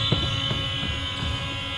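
The end-of-quarter buzzer sounds at a women's basketball game in Singapore, closing the third quarter. It is a steady, loud, continuous electronic tone held for the full two seconds over faint arena ambience.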